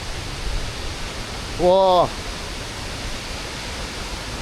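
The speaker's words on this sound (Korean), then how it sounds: "폭포 미쳤어요" A large waterfall in Sri Lanka roars as a constant broad rush, with one short exclamation from a man partway through.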